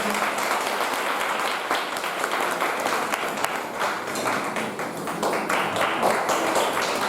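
Audience at an anniversary ceremony gives steady, vigorous applause to welcome a guest speaker, a dense sustained wash of clapping heard from within the hall, loud and continuous without pause.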